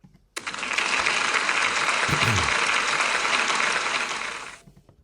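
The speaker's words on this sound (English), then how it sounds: "Can we give Amari a big round of applause, please?" Applause from a school celebration assembly audience, a dense sustained clapping that starts abruptly, holds steady and loud for about four seconds, then fades out quickly.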